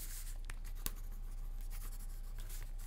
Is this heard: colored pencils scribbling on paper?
yes